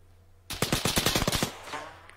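Video game gunfire: a fast burst of about ten loud, close automatic shots fired in rapid even rhythm over roughly one second, then a short fading echo, with no talking.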